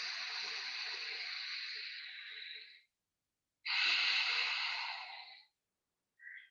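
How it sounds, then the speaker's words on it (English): Ujjayi yoga breathing, the throaty Darth Vader breath with a gentle whistle: two long, steady hissing breaths close up, separated by a pause, then a brief third breath. "Breathing with a gentle whistling sound. Dart Veda breath."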